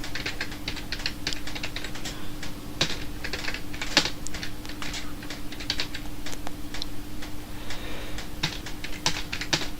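Steady, brisk typing on a computer keyboard, many light clicks in an uneven rhythm with occasional louder key strikes, close by, with a faint constant hum beneath and no talking.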